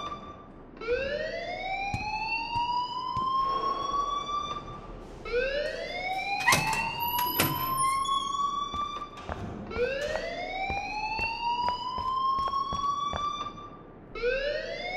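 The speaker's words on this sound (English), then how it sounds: "please turn off that alarm since that's your job" A rising, wailing alarm siren in the Life is Strange video game repeats in long swooping cycles, loud and continuous, with sharp clicks and bangs cutting in partway through.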